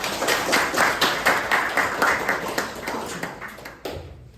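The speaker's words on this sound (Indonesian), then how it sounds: "Tepuk tangan untuk kalian." Applause for participants at a judging session, a close, fairly loud burst of many hands clapping in a steady rhythm that tapers and cuts off near the end.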